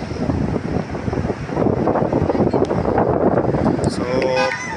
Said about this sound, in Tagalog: So mahangin ngayon, grabe.